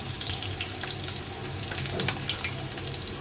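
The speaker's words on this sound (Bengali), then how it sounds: "পেঁয়াজ রসুনটা আমি লাল করে ভেজে নিচ্ছি" Chopped onion and garlic fry in hot oil with dried red chilies, cumin, panch phoron and a bay leaf for a dal tempering, giving a steady, even hiss and sizzle close by with no talking.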